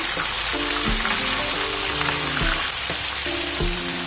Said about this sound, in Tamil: நம்ம சிக்கனை நல்லா இந்த ஆயிலில் வதக்க போகிறோம்